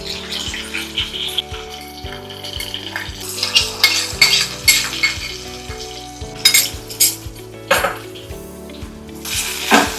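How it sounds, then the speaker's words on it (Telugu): Sesame seeds frying in oil with green chillies for Telangana-style tomato pickle, a crackling sizzle under repeated metal spoon scrapes and clinks against the pan, busy and close. "ఈ నువ్వులని కొంచెం నూనెలో ఫ్రై అయ్యే వరకు కలుపుకోవాలి"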